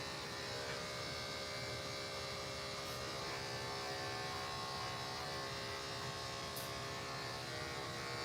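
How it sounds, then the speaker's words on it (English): An electric dog grooming clipper runs on a Maltese's coat, a steady, even buzzing hum with a fine whine that holds at constant loudness throughout. "I'm going to do reverse so that hair goes right into my clipper easier."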